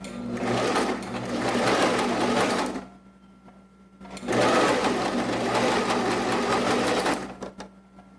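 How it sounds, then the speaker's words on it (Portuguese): Domestic sewing machine stitching a curved neckline seam, running in two fast whirring bursts of a few seconds each with a quiet pause between as the fabric is turned. "Agora eu vou fazer aqui uma costura de 1 centímetro por toda a volta do meu decote."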